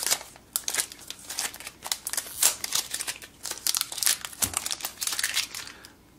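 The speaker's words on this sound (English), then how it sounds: "I'm going to go ahead and peel off all this plastic." Plastic wrap crinkles and crackles as it is peeled off an Amazon Fire TV power adapter, a close, busy run of rustling bursts with no talk.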